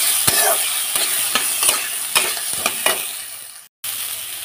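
Onion and dried red chilli fry alongside potato and chickpeas in a kadai, a loud close sizzle punctuated by sharp spatula scrapes, with a brief dropout near the end.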